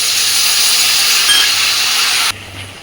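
Ginger-cumin paste and a splash of water sizzle loudly in a hot pan with a steady, dense hiss that drops off sharply near the end into a quieter sputter.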